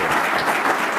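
A brief burst of dense crowd applause at a law-enforcement officer safety and wellness symposium, loud and steady for about a second, with no talking.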